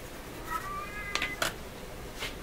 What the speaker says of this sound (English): Oh, there's one of my cats there.